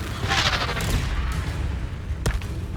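Confringo explosive spell cast in Hogwarts Legacy, a burst of crackling blasts with a sharp boom near the end, amid combat noise and no talking.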